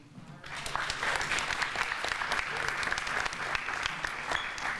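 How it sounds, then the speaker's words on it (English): A crowd applauds steadily and warmly for several seconds, a dense patter of clapping that starts abruptly and holds at an even level. "Let's give Monique another round of applause."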